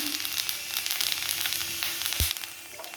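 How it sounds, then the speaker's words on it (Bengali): Steady, close sizzling of five-spice seeds frying in very hot oil left from frying rohu fish, a bright crackling hiss with a brief thump near the end. "ওই তেলেই একটু 5 ফোড়ন দিয়ে দিচ্ছি"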